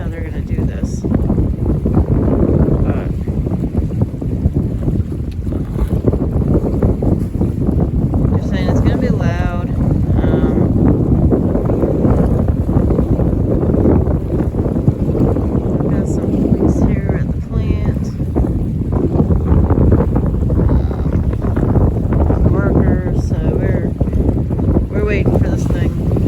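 Strong wind buffets the microphone with a constant heavy rumble, boat and water noise beneath it and voices faintly audible under the roar.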